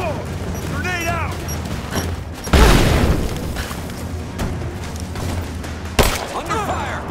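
A grenade detonates in Rise of the Tomb Raider on PC: one loud, deep boom near the middle, with scattered gunfire and another sharp blast later over continuous combat noise.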